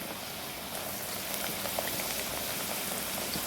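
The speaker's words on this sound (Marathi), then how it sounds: "आता मी हे आलू आहे ना, हे आधी मी थोडे तळून घेणार आहे" Potato pieces shallow-frying in oil in a pan give a steady, dense crackle and hiss that stays even and fairly close throughout, with no voices.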